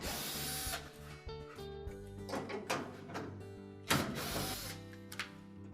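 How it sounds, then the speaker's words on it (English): Screws are backed out of the water inlet valve on a GE washer, freeing it from its metal shield: faint whirring of a driver with scattered metallic clicks and rattles, close and quiet, with no talk. "Next we'll take out the 2 screws that secure that valve to this metal shield."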